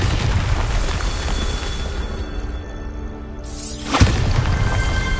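A Bombarda blast spell in the video game Hogwarts Legacy, a single sharp explosive boom near the four-second mark over a steady game ambience and music bed.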